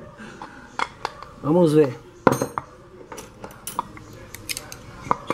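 A pressure cooker pot being handled, with metallic clanks, knocks and clinks of pot and lid at close range, one longer scraping rattle, and a person speaking briefly over the handling.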